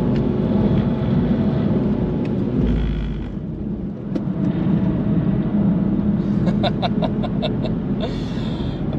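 A BMW 218i car laps a circuit held in fourth gear, its engine a continuous loud drone that dips briefly and then steadies, with a series of sharp ticking clicks near the end.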